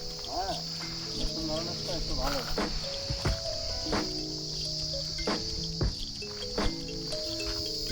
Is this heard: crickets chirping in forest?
yes